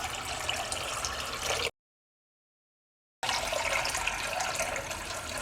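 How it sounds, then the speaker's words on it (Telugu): Water is poured into an empty bowl, a steady close splashing stream that stops for a moment of silence and then runs again. "ఎంటీ బౌల్ తీసుకొని నీళ్ళు యాడ్ చేసి"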